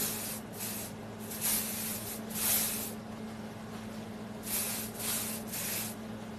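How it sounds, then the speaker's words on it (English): Several soft, hissing bursts of perfume sprayed onto hair in quick succession, fairly close and quiet, with brief pauses between them. "take this perfume away from your hair and lightly spray onto your hair"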